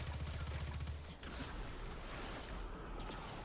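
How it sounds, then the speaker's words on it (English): Ikelos SMG from Destiny firing in a fast, dense stream of shots, loud and close, with a rapid rattling burst in the first second followed by continuous heavy gameplay noise. "I do enjoy my Ikelos SMG though."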